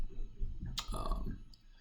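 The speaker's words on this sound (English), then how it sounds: "Clicky hair triggers. So you can hear how that sounds." Clicky hair triggers on a SCUF Reflex FPS PS5 controller snap with two sharp, close clicks a little under a second apart over a low rumble of room noise.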